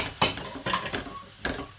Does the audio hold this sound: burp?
no